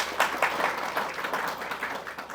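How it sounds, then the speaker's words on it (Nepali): An audience at a youth faith program applauds a guru, steady dense clapping from a crowd in an indoor hall, sustained throughout at moderate loudness. "हामी सबैजना गुरुबाबुलाई फेरि पनि ताली बजाउँदैछौँ।"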